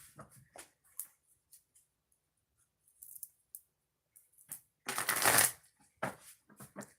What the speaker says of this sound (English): let's shuffle it 2 times